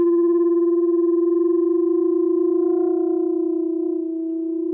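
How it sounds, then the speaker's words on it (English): Two sounding pipes with different natural frequencies ring together, a sustained steady tone with harmonics that slowly swells and fades in beats, alone and clear. "if they have different natural frequencies and I excite them together, we should have this mechanism called beats"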